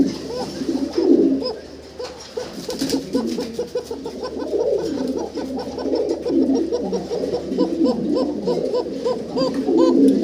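Rajgola fancy pigeons coo in repeated soft, throaty bursts, several birds calling over one another close by, with a faint background hum and a brief rattle partway through.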